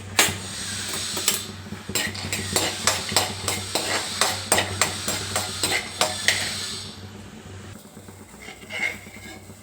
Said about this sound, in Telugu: ముందు కొంచెం నూనె వేసుకొని నూనె కాగాక పల్లీలు వేయించి పక్కకు పెట్టుకోవాలి.